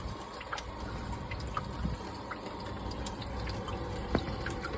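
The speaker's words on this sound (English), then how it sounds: "Oh, your water running." Water runs steadily from a leaky household faucet, a continuous low wash of trickling flow with scattered faint drips throughout.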